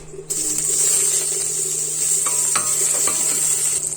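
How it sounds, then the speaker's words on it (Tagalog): Garlic and onion sauté in a pan for Ilocano baradibod with sweet potato, giving a steady bright sizzle over light stirring and a few soft utensil taps against the pan. "Bali magigisa na ako ngayon ng bawang sibuyas."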